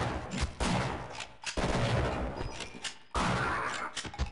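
Turrets firing in the Half-Life video game, rapid repeated gunfire bursts separated by brief pauses, loud and close with dense rattling shots.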